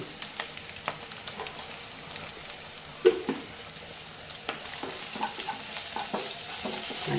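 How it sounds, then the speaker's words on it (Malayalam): Egg fried in a pan and broken up with steady stirring, a constant close sizzle punctuated by sharp spoon taps and scrapes against the metal, one stroke standing out louder than the rest. "ക്ലീനായിട്ട് ഇളക്കി കൊടുക്കണം കേട്ടോ മുട്ട നന്നായിട്ട് മുറിയണം"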